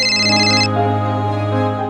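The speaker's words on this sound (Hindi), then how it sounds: "सॉरी, फोन आ रहा है।" A mobile phone rings with an incoming call, a bright repeating electronic melody that plays loud and close, its upper tones cutting out partway while a steady tonal hum continues.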